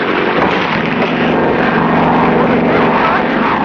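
Steady, loud drone of a cartoon seaplane's engine running without a break, a dense continuous roar with no pauses.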